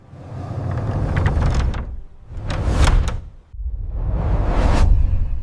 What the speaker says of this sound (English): The pivot door, finished in warm timber, is proportioned generously. And as it opens, it does not simply grant access.